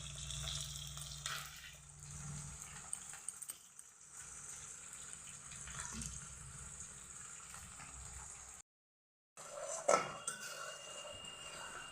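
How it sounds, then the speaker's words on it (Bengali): Marinated chili chicken pieces fry in a pan with a faint, steady sizzle and occasional clinks, quiet and somewhat distant, briefly cutting to silence before resuming. "তারপরে ভেজে নিচ্ছি ভালো করে লাল লাল করে চিকেনগুলোকে ভেজে নিতে হবে"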